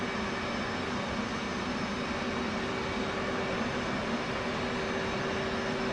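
Jet engine running in a flight simulator game, a steady, continuous roar with a constant whine and low hum, unchanging in level and heard alone without talk.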